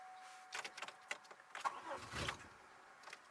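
2002 Chevy Malibu with a no-start fault, engine cranking in a brief attempt to start: a few close clicks and clunks followed by a short labored whirring crank that dies away, quiet overall without speech.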